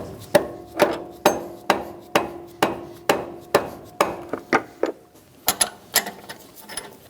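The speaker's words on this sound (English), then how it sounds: "We're going to tap the compressor down into place." A hammer taps an AC compressor down into its mounting on a 1988-1999 GMC K1500 with a 5.7L V8, giving about a dozen sharp, evenly spaced metallic knocks, close and loud, with no talking.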